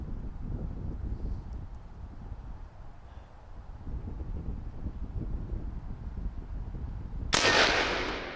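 A single sharp blast from a 12 gauge air rifle fired outdoors at a target 65 yards away, breaking suddenly near the end over steady wind noise buffeting the microphone.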